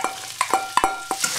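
Tofu and onions hit hot olive oil in a wok, giving a soft sizzle broken by sharp, irregular clinks and scrapes of stirring, close and fairly loud.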